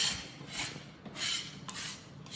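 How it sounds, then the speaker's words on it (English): A dough scraper scrapes loose bits of homemade artisan bread dough off a work surface in several short, raspy strokes, close up and fairly quiet. "I'm going to use my handy scraper to scrape up some of the bits of dough"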